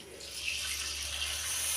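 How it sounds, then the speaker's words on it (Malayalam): A steady hissing pour of water into a pan of mackerel curry runs close by at an even level, with no one talking. "വെള്ളം ഒഴിച്ചു കൊടുക്കുക"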